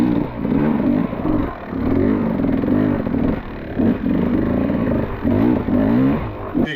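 A 2026 Beta 350cc two-stroke hard enduro motorcycle ridden on very slippery terrain, its engine loud and close, revving and easing off in a continuous throaty rasp.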